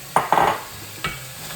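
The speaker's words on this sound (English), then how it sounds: "So we're just gonna fry this up just a little bit, okay?" Pieces of stew beef moved around in a hot frying pan, a few short scraping stirs with a faint sizzle underneath, close and without talking.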